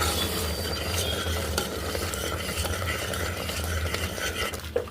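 Salt is stirred into a pot of tamarind lentil soup with scraping and soft clinks over a low simmering sizzle, steady for a few seconds.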